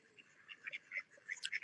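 Female ducks giving faint, scattered quacks and soft chirping calls, quiet and irregular, grouped more densely toward the end.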